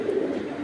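A large black-tailed Giribaz pigeon of the Army knot type coos in a low, steady, close murmur that runs through the whole short moment, with no talk over it.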